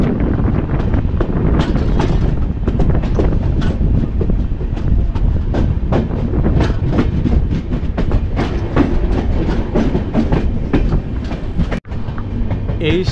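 Howrah–Amritsar Mail train rolling along after pulling out of a station on a foggy, cold night, with a steady loud rumble and rhythmic clickety-clack of wheels over rail joints close by, plus some wind buffeting.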